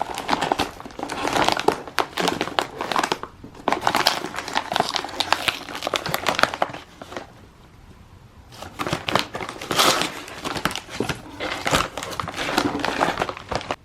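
An envelope being opened, with loud close paper crinkling and rustling in bursts, a quiet pause in the middle, then more crinkling.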